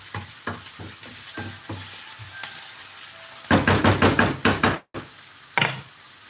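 Onions fry in a generous amount of cooking oil while arepas are prepared, giving a steady sizzle broken by sharp knocks and a quick burst of rapid utensil taps.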